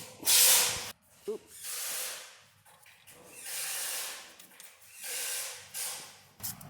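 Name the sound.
filling Nissan Frontier transfer case with fluid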